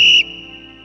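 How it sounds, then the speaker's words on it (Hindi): A sharp, piercing whistle blast cuts in loud for a fraction of a second, then drops to a faint lingering tone. "अचानक एक तरफ से सीटी की जोरदार आवाज आई"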